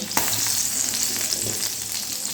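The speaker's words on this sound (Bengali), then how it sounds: "এই আদা রসুন আর পেঁয়াজটা একটু ভালো করে ভেজে নিতে হবে" Ginger, garlic and chopped onion fry in a pan over low to medium flame, making a steady dense sizzle with a faint stir near the start, close and continuous.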